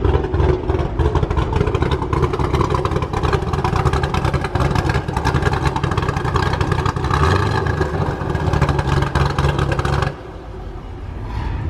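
A Corvette Z06 runs loud and close at a car show, its lumpy, choppy idle rumbling continuously for about ten seconds before the level suddenly drops.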